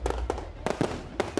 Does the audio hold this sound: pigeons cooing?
no